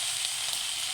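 Cumin and coriander powder fry in a pan for a fish curry, giving a steady, close hiss of sizzling that stays even and unbroken throughout, with no voices.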